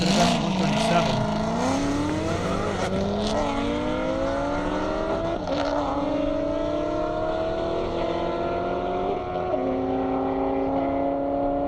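A C6 Corvette racing down an airstrip at an airstrip speed event, its engine note climbing through rising gear pulls with shifts in between, loud and close at first, then slowly fading as the car pulls away.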